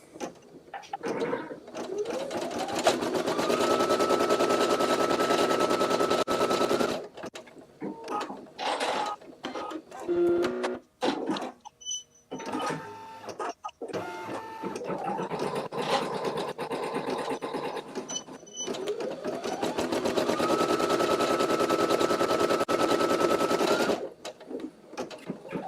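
A Ricoma EM1 embroidery machine stitches an in-the-hoop candy bag pouch, running in two long steady rhythmic bursts with a stretch of quieter clicks, pauses and brief handling noise in between.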